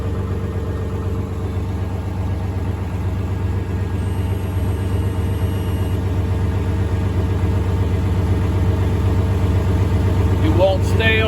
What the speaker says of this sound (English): If I idle the tractor,